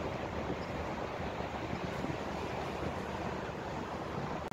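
Strong, steady wind roars across the microphone, a continuous broadband rush with no pauses and no voices.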